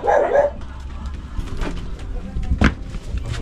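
A dog barks a couple of times, short sharp yaps at the start and again near the end, with quiet background noise between.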